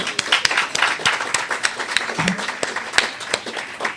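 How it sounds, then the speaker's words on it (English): Audience applause at a Hyatt lunch event, a room full of people clapping steadily and fairly close, with brief voices mixed in. "let's give him a round of applause"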